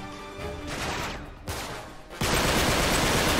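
An AK rifle in the Uncharted 3 game fires in loud bursts of automatic shots, one after another, ending in a dense sustained barrage.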